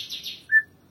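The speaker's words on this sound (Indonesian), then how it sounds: "Murai Batu Dubur Putih Sonokeling saya ini" A white-rumped shama (murai batu) of the Sonokeling type sings a short, clear phrase of bright chirping notes followed by a sustained whistled tone, close and loud over a quiet background.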